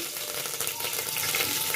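Curry leaves dropped into hot oil in a pressure cooker give a steady, close crackling sizzle with sharp spits and pops throughout.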